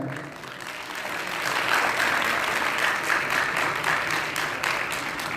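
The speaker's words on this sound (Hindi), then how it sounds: "आप अपने लिए ताली बजाएं।" Students clap together at an award ceremony for a Bhopal coaching institute, a steady wash of many hands filling a hall, swelling after the first second and holding evenly to the end with no talk over it.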